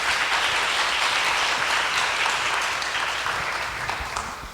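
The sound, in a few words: audience applause welcoming a speaker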